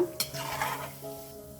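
Peanuts roasting in a frying pan, stirred with a scraping, clinking utensil over a soft steady sizzle, close and continuous.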